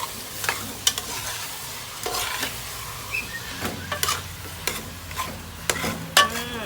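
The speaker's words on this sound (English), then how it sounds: "we stir." Banana and fig talkari stirred in a pot, the spoon scraping and clattering in irregular strokes over a soft sizzle, moderately close, with no talking.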